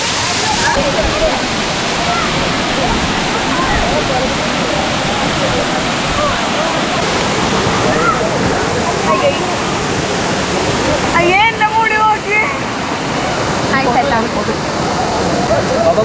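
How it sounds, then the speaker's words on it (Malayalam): Anachadikkuth waterfall in Thodupuzha, Idukki, swollen in the monsoon, roars as a constant loud rush of falling water, with a few brief voices and whistle-like sounds faintly cutting through. "മഴക്കാലത്ത് കൂടുതൽ ഭംഗിയാർജിക്കുന്ന ഒരു വെള്ളച്ചാട്ടം കൂടെയാണ് നമ്മുടെ ആനചാടിക്കുത്ത്"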